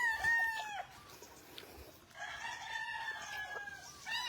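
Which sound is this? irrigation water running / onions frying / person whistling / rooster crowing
rooster crowing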